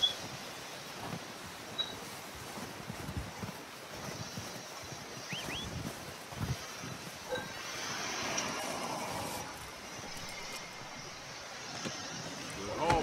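A horse whinnies while hooves clop intermittently over a windy outdoor background, in the video game Red Dead Redemption 2.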